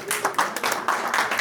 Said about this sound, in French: Okay, donc vous pouvez applaudir du coup Marc qui est avec nous ce soir